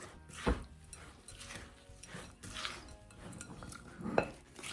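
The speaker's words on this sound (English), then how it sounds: "Let's mix this all up. I do have the spatula now." A spatula scrapes and clacks against a bowl while mixing butter with graham crackers, in a soft, uneven stirring rhythm. The sounds are close but quiet, with a few sharper knocks and no talk.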